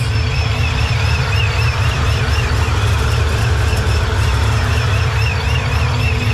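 A Chevy Silverado 5.3 V8 fitted with new long tube headers runs steadily at idle, a loud, close, continuous low rumble with no talking.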